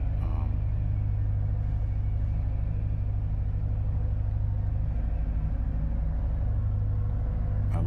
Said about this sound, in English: that's a nice idling sound